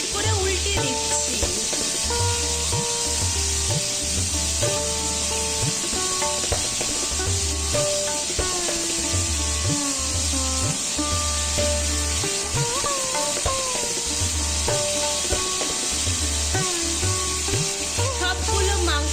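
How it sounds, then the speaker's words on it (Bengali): Marinated chicken pieces for chicken tikka masala fry in hot oil on a high flame after being flipped, giving a steady close sizzle with repeated scraping and stirring knocks throughout and a faint tonal background. "মাংসগুলোকে এপিট ওপিট করে উল্টে দিচ্ছি"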